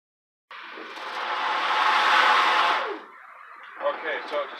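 A Ryobi 40-volt cordless 20-inch battery-powered electric lawn mower starts up and runs with a loud, steady whirring hum that swells and then drops away, followed by a few quieter rattles and clicks.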